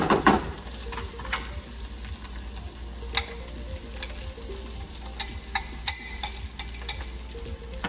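Four cups of rice go into a pot of garlic frying for garlic fried rice, giving a steady sizzle with a burst of clatter at the start and scattered light scrapes and ticks afterward.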